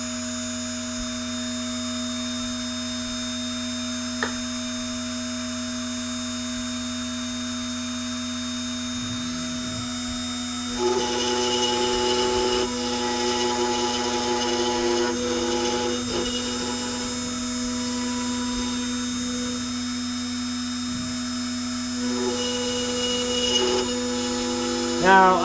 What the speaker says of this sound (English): I'm going to turn the spindle on.